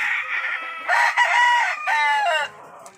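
A rooster crows loudly and close by, a long strained call in several rising and falling stretches, with no other sounds.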